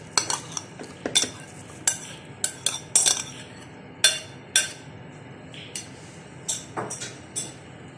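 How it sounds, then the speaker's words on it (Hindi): Minced meat for galouti kebab is spooned into a food chopper, producing irregular sharp metallic clinks and light scrapes close by, with quiet gaps between the taps and no speech. "अब चॉपर के अंदर कीमा डालेंगे।"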